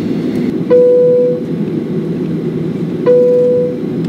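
Steady low engine and air-conditioning hum fills a Solaseed Air Boeing 737-800 cabin before takeoff, broken by two soft chime tones about two and a half seconds apart.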